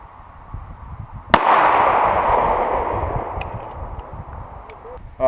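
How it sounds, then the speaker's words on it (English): A single sharp .45 ACP pistol shot fired into a watermelon cracks out loudly, followed by a long, slowly fading outdoor echo that rolls on for several seconds before a brief clatter at the end. "The first round we're going to be firing is the 45 caliber ACP."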